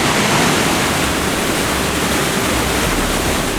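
A loud, steady roar of rushing water from a powerful waterfall in Alaska, broadband and unbroken throughout, like heavy falling water crashing nearby.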